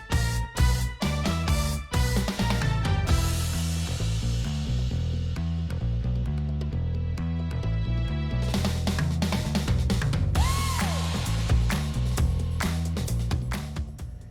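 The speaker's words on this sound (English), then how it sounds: "So we're going to turn up a spacer that's going to be welded onto our clamp" A metal spacer for minibike handlebars being turned on a lathe, with loud sustained machining noise, a steady whirring hum and repeated sharp scraping and clattering bursts throughout.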